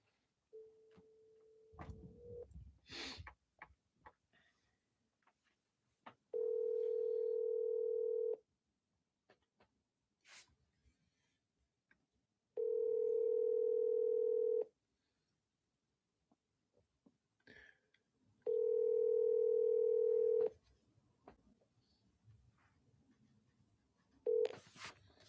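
A phone call being placed to a buyer: short tapping sounds, then three long, loud ringback tones spaced evenly several seconds apart, with quiet gaps between.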